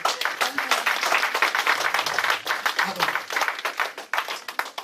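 A church congregation claps and applauds continuously at a steady, dense rhythm, with voices and singing mixed into the clapping throughout.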